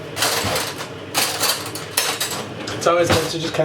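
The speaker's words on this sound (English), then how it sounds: "get some boiling water, just mix it in" Continuous scraping and clinking of a utensil stirring thick mashed potato with boiling water in a metal pot, busy and close, with brief louder knocks against the sides.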